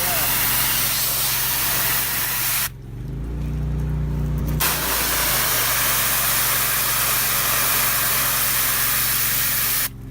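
Sandblasting a Willys pickup chassis outdoors in snowy, humid weather: a loud, steady hiss of the blast nozzle running almost continuously, with a brief pause mid-clip under a low compressor drone.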